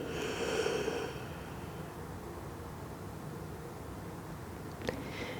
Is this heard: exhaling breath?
yes